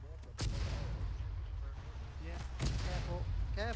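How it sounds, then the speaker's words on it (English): Mortar fire in the video game ArmA 3: several heavy booming blasts land at intervals, some near and some distant, with voices talking between them. "Mortar's north and south."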